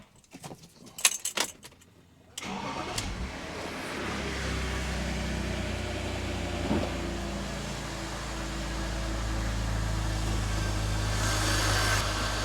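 Keys jangle briefly before a BMW E46 330i with the M54B30 six-cylinder engine starts cold and settles into a steady idle, a constant hum that grows slightly louder toward the end.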